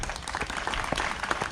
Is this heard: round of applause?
yes